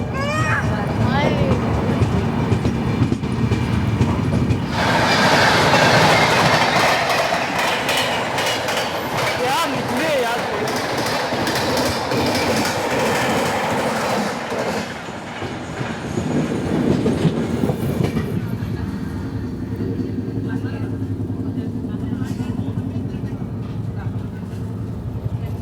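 Sachkhand SF Express (12716) rolls along the rails near Ambala on Northern Railway, a loud steady rumble with clattering wheels and a brief quieter stretch midway; people talk faintly beneath the train noise.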